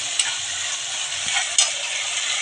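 Ginger-garlic paste sizzles steadily in a hot pan, a dense close-up hiss with a couple of sharp spoon taps, while cooking a fish-head dal.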